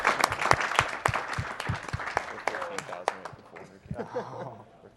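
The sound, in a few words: audience applause at a speedrun event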